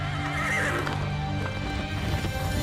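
A horse neighs with a strong whinny while its hooves clip-clop steadily beneath, all fairly close and dense throughout without any talking.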